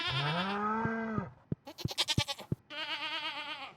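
Goats bleating in a barn in the video game Stardew Valley: a long wavering bleat, then a quick run of short percussive clicks and tones, then another drawn-out quavering bleat, close and clear.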